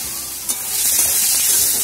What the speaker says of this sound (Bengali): এটা এবার একটু ভালো করে কষে নিই।